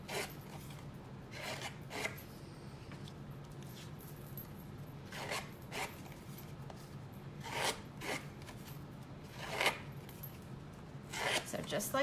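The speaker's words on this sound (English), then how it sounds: "I'm just gonna take my scissors and just roughen this up just ever so slightly." Short bursts of dry scraping and rasping repeat at irregular intervals, close up, as scissor blades roughen a paper edge, with a faint low hum underneath.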